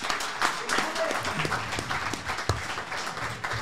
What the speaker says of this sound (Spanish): Ahora sí, un aplauso,